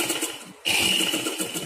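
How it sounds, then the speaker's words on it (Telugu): Domestic sewing machine stitching a folded hem of blouse cloth, running as a steady close whir with a brief dip partway through before it carries on. "ఇలా చేసుకున్న తర్వాత ఈ ఫోల్డింగ్ ను మనం ఇలా స్టిచ్చింగ్ వేసుకోవాలి"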